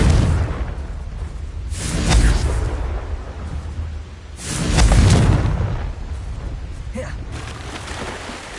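Confringo fire spell blasts in Hogwarts Legacy, two booming whooshing bursts a few seconds apart with rumbling tails, loud and close amid game ambience.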